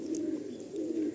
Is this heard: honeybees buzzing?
no